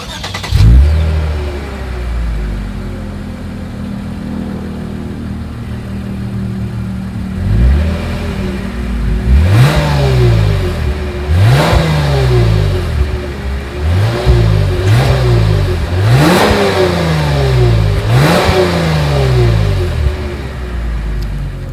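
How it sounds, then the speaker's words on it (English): A 2020 Lexus IS 300 F Sport's dual exhaust starts with a burst, idles, then revs in about six sharp blips of rising and falling pitch, loud and close with no talking. "As always, here is that exhaust clip."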